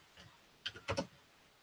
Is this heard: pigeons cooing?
no